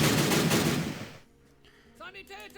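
Infantry opening fire in the Battle Academy WW1 game, a dense rattle of rifle and machine-gun shots for about a second before cutting off, followed by a voice speaking over quiet background.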